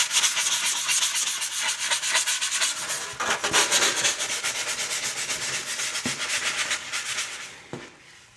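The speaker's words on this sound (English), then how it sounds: "we're gonna use some 220 grit sandpaper to smooth over the corners and to clean up those edges" Sandpaper of 220 grit rubs back and forth over the edges and corners of a wooden flat panel speaker, a continuous rhythmic scratchy rasp, close and steady for several seconds, no talking.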